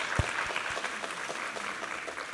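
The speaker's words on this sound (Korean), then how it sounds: "우리 하나님께 감사와 영광의 박수 올려드리겠습니다" Applause rolls through a church congregation at a Sunday service, a soft, steady patter of many hands with a few low thumps early on.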